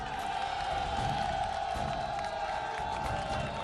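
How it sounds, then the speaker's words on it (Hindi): Studio audience applauding and cheering to welcome guests, a Congress MLA and a candidate, at a televised election debate in Jodhpur; a steady, dense wash of clapping and crowd noise fills the whole stretch without letting up. "तालियों के साथ स्वागत कीजिए"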